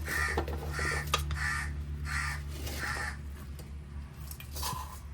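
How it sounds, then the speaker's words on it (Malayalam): A crow caws repeatedly in a steady rhythm of harsh calls over a constant low hum, sounding a little distant. "പുറത്ത് കാക്ക ഇരുന്ന് കരയുന്നു"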